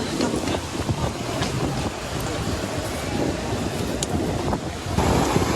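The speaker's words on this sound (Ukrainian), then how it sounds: "Штормить дуже море." Stormy sea surf rolls and crashes steadily onto Arcadia beach in Odesa, a continuous broadband roar with wind buffeting the microphone throughout and a slight surge near the end.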